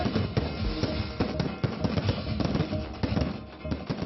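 Celebratory fireworks crackle and pop in dense, rapid bursts during an inspection of the Mumbai Trans Harbour Link bridge project, a loud, continuous barrage of sharp reports with no voices.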